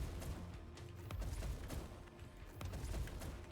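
Gunfire from a fantasy co-op video game with a mace and storm-call loadout, several bursts of shots fired over obstacles at a moderate level, with impacts and scattered game effects around them.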